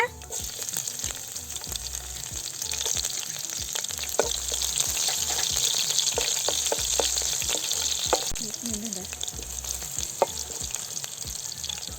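Mustard seeds, cumin, crushed garlic and dried red chillies fry in hot oil for coconut sambar, a bright crackling sizzle with frequent pops and light spoon scrapes, close and steady with no talk.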